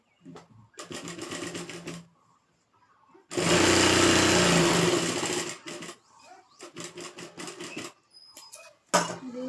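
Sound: sewing machine top-stitching a salwar

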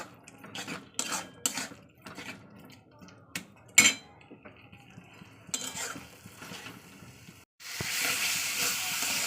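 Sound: sautéing potato and pointed gourd with spices in a pan

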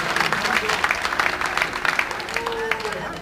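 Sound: audience applauding

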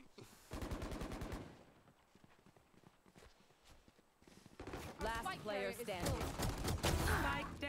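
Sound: pistol gunfire in a video game

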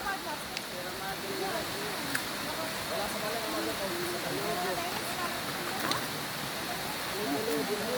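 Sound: heavy rain

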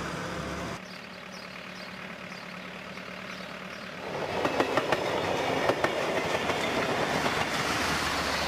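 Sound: diesel railcar train running on tracks in Romania

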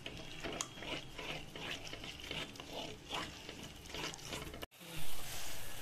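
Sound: pouring a little water into palak paneer masala

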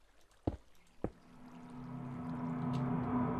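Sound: water flowing over lava in a video game

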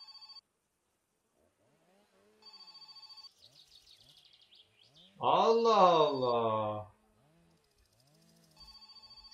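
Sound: telephone ringing in My Summer Car video game

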